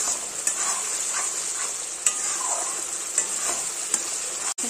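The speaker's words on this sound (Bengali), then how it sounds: "তিন চার মিনিটের জন্য আবারও এটাকে কষিয়ে নেব।" Hariyali fish curry being stirred and sautéed in a pan, a steady close sizzle with a few soft spoon scrapes and clicks scattered through, no voices.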